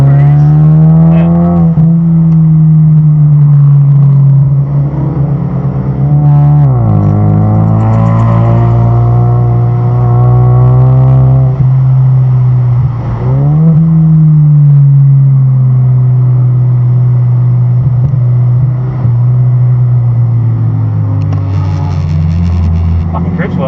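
A lightly modified 4-cylinder turbo car lapping a track on Michelin Pilot Sport tyres, its loud in-cabin engine note rising and falling through repeated gear changes and revving, with brief lulls between pulls.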